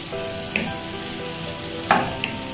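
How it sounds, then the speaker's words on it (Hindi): Potatoes fry in a pan for aloo shimla mirch, a steady close sizzle with a couple of sharper stirring scrapes and no talking. "आलूओं को ऐड करने के बाद आलूओं को अच्छे से फ्राई करेंगे"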